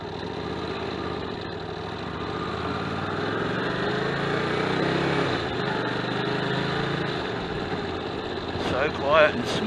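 A motorcycle fresh back from repair idles smoothly with a steady, even mid-pitched drone, and voices talk over the engine.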